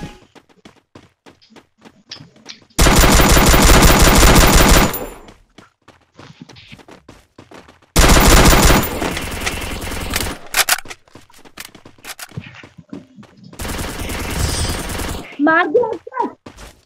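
In Free Fire, a Vector submachine gun fires in three long automatic bursts with dense rapid shots. Quieter game sounds and footsteps come between the bursts.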